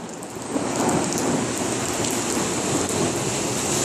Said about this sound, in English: It's raining super hard right now, and there's thunder.